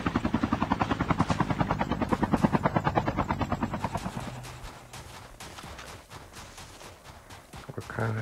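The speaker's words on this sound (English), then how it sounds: "Oh, there's a helicopter." A helicopter's rotor in Call of Duty battle royale thumps in a rapid, steady chop that is loud at first, then fades away into the distance.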